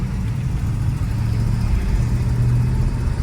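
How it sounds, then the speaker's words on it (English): A 1965 Buick Riviera Grand Sport with a 430 four-barrel engine pulls under load as a loud, deep, steady drone that swells slightly, heard close and alone without speech. "video of our 1965 Buick Riviera Grand Sport. Of course, the 430 4-barrel twin has got a lot of power."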